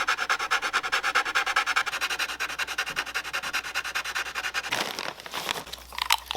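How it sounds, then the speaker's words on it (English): Brace grooves are filed by hand while building an acoustic guitar, giving rapid, rhythmic rasping strokes that stay steady and close, then break into looser scraping and handling sounds near the end. "Filing and checking and filing and checking."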